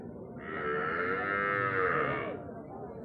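A long, loud cow moo with rising and falling harmonics, heard at a cattle market near the India–Bangladesh border, over a steady background of market noise.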